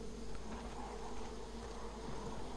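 Bees buzz steadily around a bee nest in Far Cry 5, a continuous droning hum at moderate distance with no other sounds.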